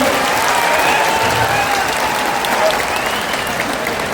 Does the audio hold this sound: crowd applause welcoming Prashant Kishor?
yes